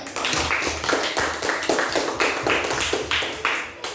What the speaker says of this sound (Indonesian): Beri tepuk tangan ke April.